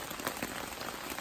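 Rain falls steadily at Steel Creek Campground, a dense, even patter of drops on surfaces nearby with no pauses over a brief stretch.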